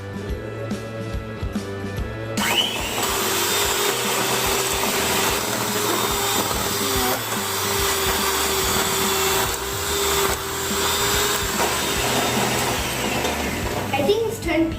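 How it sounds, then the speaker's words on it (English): An electric mixer whisks cake batter with powdered sugar for a homemade chocolate birthday cake, a steady loud motor whir running after a brief start, with a voice in the background. "Now whisk it."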